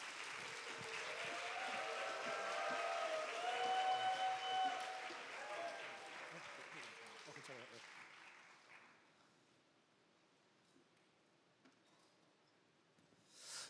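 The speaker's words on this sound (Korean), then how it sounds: "우리 박수로 맞이하겠습니다" A church congregation at a youth summer retreat revival service claps to welcome a pastor, a dense, steady round of applause lasting several seconds before fading to a quiet room, with a voice briefly heard over it.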